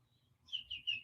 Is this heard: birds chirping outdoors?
yes